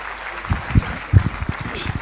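Audience members at an Amway business meeting clap in a scattered run of distinct, fairly close claps that build to a loose applause over about two seconds.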